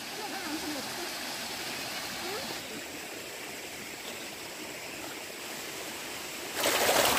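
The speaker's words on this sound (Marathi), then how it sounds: "या इकडे बघा छोटासा धबधबा आणि किती क्लिअर पाणी आहे" Clear water flowing over rocks in a small forest waterfall and stream on the jungle trek to Yana Caves, a continuous rushing wash that swells louder near the end.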